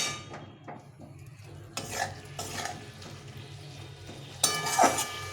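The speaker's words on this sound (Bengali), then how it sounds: "টমেটোটা দিয়ে আবার একটু কষিয়ে নিতে হবে আলুর সঙ্গে।" Tomato being stir-fried with boiled potatoes in oil for a curry, soft frying hiss under intermittent scraping and clanking strokes of a utensil in the pan, quiet and close, with no voices.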